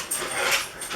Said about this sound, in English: I don't know why my dog is barking